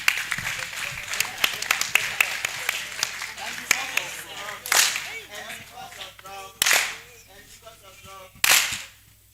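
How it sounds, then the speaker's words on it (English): Conference audience applause for the director at an annual New Year School, a dense patter of claps that swells and fades in bursts, with a voice speaking over it at times. "Another round of applause for the director of the 77th Annual New Year School and Conference"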